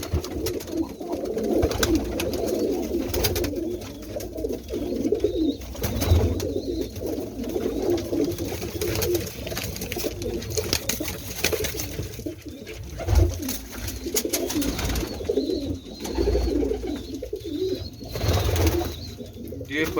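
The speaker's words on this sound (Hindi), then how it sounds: "ये भी फिरोजपुरी बड़ा कबूतर है।" Ferozpuri pigeons coo and murmur continuously at close range, with scattered wing rustles and other birds mixed through a dense, busy loft.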